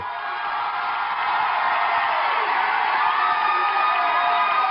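A graduation ceremony crowd in the United States cheers and applauds steadily as a blind graduate crosses the stage with her guide dog; a continuous, muffled roar that swells slightly and holds at a constant level.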